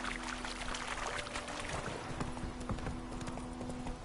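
Roach the horse gallops in The Witcher 3: Wild Hunt, a steady run of hoofbeats clip-clopping on and on over a low hum and ambient game sounds, with no talking.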